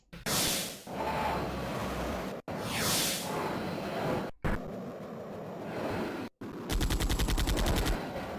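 Bursts of rapid gunfire and whooshing passes of aircraft doing barrel rolls in a video game come in separate segments, ending with a fast machine-gun rattle, loud and close with no talking.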